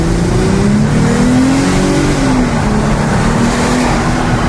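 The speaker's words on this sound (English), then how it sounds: "Let's hear that exhaust note." A Mercedes W209 CLK 350 in sport mode, first gear, accelerates hard with a loud, steady, close exhaust drone whose pitch climbs and dips as it revs, with no one speaking.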